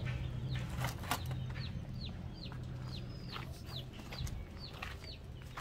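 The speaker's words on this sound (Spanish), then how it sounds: "Ahí está la gallina, ahorita la van a asar." A hen clucks in a series of short, rising calls, moderately close, over a steady outdoor background hum.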